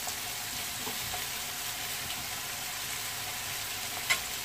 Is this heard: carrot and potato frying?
yes